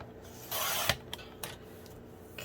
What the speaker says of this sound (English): I'm going to shave just the tiniest amount off to be sure that nothing gets caught in the hinge